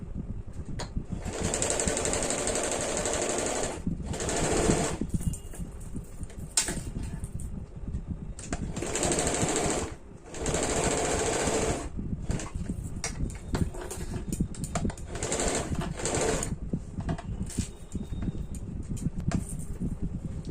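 A domestic sewing machine stitches the half-inch shoulder seam joining the front and opened back panels of a deep-neck kurti, running in repeated close bursts of steady whirring with short pauses between.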